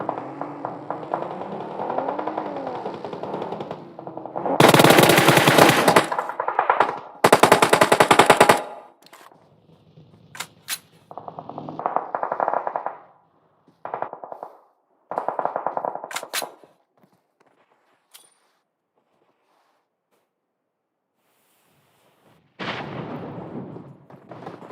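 Bursts of rapid automatic gunfire from a competitive Clatter of Clans match, loud and close with sharp echoing volleys around 5 to 8 seconds, then scattered single shots and short bursts with quiet gaps between.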